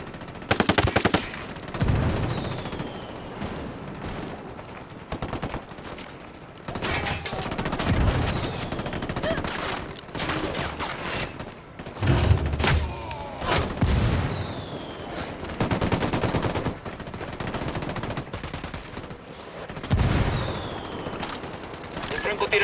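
Support gunfire in Ghost Recon Wildlands: sustained machine-gun bursts and scattered booming shots roll on steadily and loudly, with radio voices talking intermittently over the fire.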